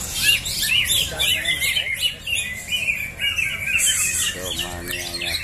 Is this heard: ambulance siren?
no